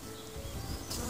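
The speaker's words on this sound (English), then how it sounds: "Here a bee is gathering some pollen from an apple tree." Brief close buzzing of a bee collecting pollen from an apple tree, a steady insect drone lasting about a second.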